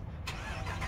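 A 2020 Ram 4x4 pickup with a 5.7-liter Hemi V8 and dual exhaust cranks and fires up by remote start, a brief starter whir catching into a rumbling engine, close and moderately loud.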